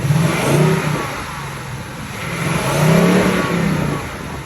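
A 2021 Ford Mustang Mach-1 with a 5.0-liter V8 and six-speed manual revs up twice, the deep engine note swelling and easing back in two rising surges with no talking over it.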